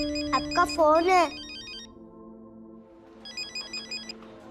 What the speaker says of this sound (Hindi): मम्मी, आपका फोन है।